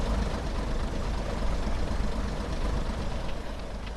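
A Class 101 DMMU diesel engine idles after a cold start, a steady low, rumbling chug at moderate distance, even and continuous with no voices.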